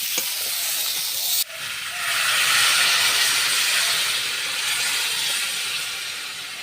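Water poured into a hot pan of spiced potato aloo dum bursts into a loud, sudden hiss that swells and lingers as steady sizzling steam.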